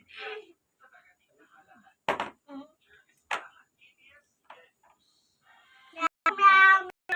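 A cat meows a few times amid quiet gaps, ending with a longer, louder meow close by.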